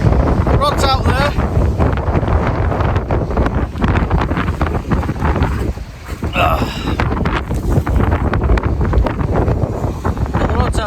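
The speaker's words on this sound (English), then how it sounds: "you could say it's got a little bit windy, choppy, rainy, horrible" Strong wind buffets the microphone at a blustery, choppy seaside on a rainy day of sea fishing at Bispham, roaring loud and continuous with a brief lull, while someone talks over it.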